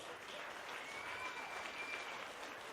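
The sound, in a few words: audience applause for a young artist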